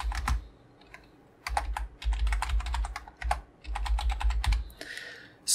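Rapid bursts of typing on a computer keyboard, close and crisp, with clustered keystrokes separated by short pauses and no talking.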